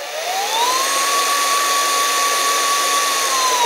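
A Hercules 20V cordless deep-cut band saw motor spins up and holds a steady high-pitched whine at full speed, close and loud, with no voices.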